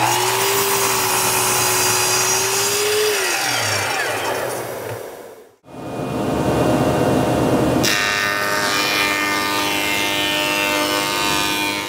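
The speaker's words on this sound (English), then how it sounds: "So I'll just cut them to rough lengths and then get them flat" A power tool cuts ash boards to rough length in a woodshop: a loud, sustained whining cut that dips briefly to near silence, then resumes with a steady, harsh roar.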